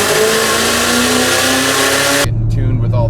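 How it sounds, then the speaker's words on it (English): Tuned high-horsepower car revving on a dyno, roaring loud and broadband with a rising pitch that cuts off abruptly after about two seconds, leaving a lower idle rumble. "car going on the dyno"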